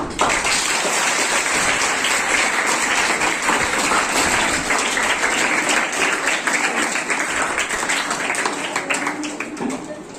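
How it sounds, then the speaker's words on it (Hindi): A school audience claps after a play about the dowry system staged by ninth-class girls at Nawal Kishor girls' high school in Masaurhi. The applause is dense and loud, sustained for about ten seconds and easing slightly at the end. "एक बार और ताली।"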